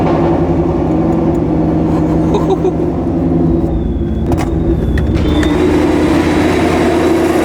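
A Ford Mustang engine with its old exhaust rumbles loudly and close at idle, a steady deep drone with slight shifts in pitch, and some background noise but no clear talking.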